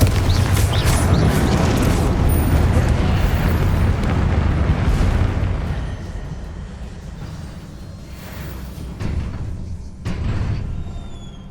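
Spell explosions from the Confringo fire spell during combat in Hogwarts Legacy, a loud sustained burst of booming blasts and crackling debris that fades after several seconds, followed by a few sharper isolated impacts.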